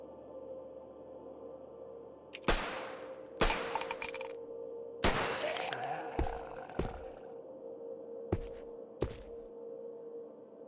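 Gunfire in the zombie survival game Cataclysm: The Last Generation, sharp shots spaced irregularly over a steady low game hum, with several loud cracks in quick succession and a couple of later isolated blasts.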